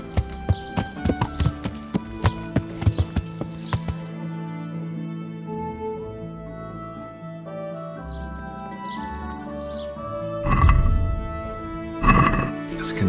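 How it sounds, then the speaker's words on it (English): Horse hooves clip-clop in a steady rhythm in Kingdom Come: Deliverance, a medieval role-playing game, with game music and a brief whinny later, no talk over them. "Let's get on the horse first."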